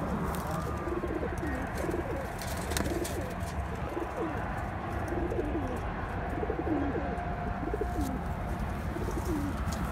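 Pigeons coo repeatedly in soft, rolling calls on a rooftop loft over a steady background hum, several birds close by with no talking.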